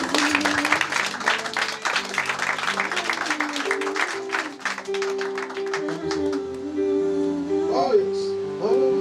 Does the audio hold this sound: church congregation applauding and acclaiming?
yes